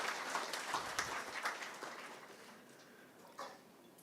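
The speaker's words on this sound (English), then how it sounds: "Let's give them a big round of applause before we proceed further." Applause from a seminar audience at an environmental sustainability event in Kerala, clapping from a moderate crowd that starts fairly full and gradually thins and fades over four seconds.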